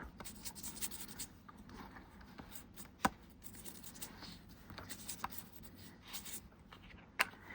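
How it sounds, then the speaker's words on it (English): A paintbrush drags color across a magazine-page background during a magazine lift technique, a faint, steady rubbing and scratching with a few small taps, close and quiet with no talking. "I'm going to use my paintbrush here and just go into the background"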